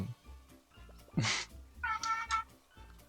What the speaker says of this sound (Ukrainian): Чуєш, він м'явкає?